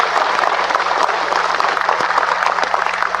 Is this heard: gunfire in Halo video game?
no